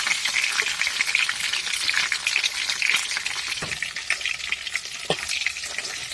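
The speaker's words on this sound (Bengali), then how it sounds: "30 মিনিট পরে এখন চিকেনটা ভালো করে ভেজে নেব।" Chicken pieces fry in hot oil in a pan, giving a steady close sizzle with occasional soft clinks and stirring knocks, no voices.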